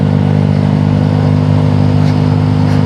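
A Yamaha Aerox V3 motorcycle engine drones loud and close under throttle on a ride, a steady humming roar with faint clattering and no one talking.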